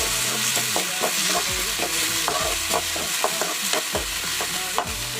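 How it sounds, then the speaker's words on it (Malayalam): Onions fry in a pan and are stirred, giving a steady sizzle under repeated scraping and clinking stirring strokes, close and without talk. "സവാള ആദ്യം ഇടാം. നന്നായിട്ട് ഇളക്കാം."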